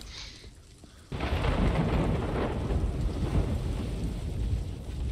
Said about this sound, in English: I'm going through the storm on my own.